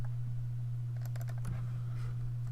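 A short burst of clicking keystrokes on a computer keyboard, a quick cluster of taps with a few trailing presses over a steady background hum, no voices.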